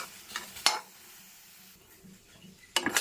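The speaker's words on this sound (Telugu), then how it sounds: "కొంచెం ఒక 2 నిమిషాలు మనం అలా గరిటతో తిప్పుకుంటూ మనం వాడిస్తే చాలండి" A metal ladle scrapes and clinks against a pan while okra curry simmers, with a few sharp knocks at the start and again near the end over a soft bubbling background.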